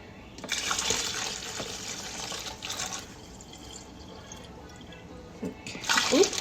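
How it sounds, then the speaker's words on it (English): Cooled boiled water pours into a jar for fire cider in short splashing bursts, with a gurgling stream that starts, pauses and resumes. "now some of this cooled down boiled water."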